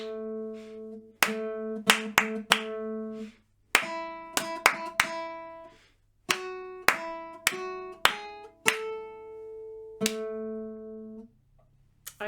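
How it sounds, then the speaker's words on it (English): Hands clap a steady rhythm together with a sustained melody, sharp claps landing in groups over tonal notes, fairly close and clear with short pauses between phrases. "we're going to clap our tar and TT rhythms along to the melody"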